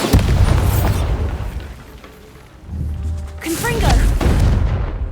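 A Bombarda blasting spell goes off in the Harry Potter game Hogwarts Legacy as a loud booming explosion with a rumbling tail, followed by a second burst, while a voice calls out spells over it.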